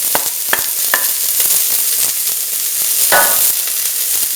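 Onion and shallot pieces sizzle steadily in hot oil for a tamarind stew, a continuous bright frying hiss with a few sharp stirring clinks and a louder burst of crackle partway through.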